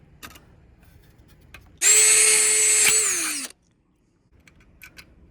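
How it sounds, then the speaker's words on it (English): A power drill whines at steady speed while boring a hole through overlapped sheet metal for a rivet, a loud burst of under two seconds that winds down as the bit breaks through. "Go ahead and overlap them here and drill a hole through there"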